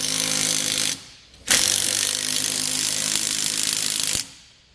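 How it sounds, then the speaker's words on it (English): A 19mm socket and wrench tighten the crossbar nuts on a Roadmaster tow bar. Steady loud mechanical grinding runs for about a second, breaks off, then resumes for nearly three seconds before stopping. "I'm going to use a 19mm socket and wrench to tighten these up"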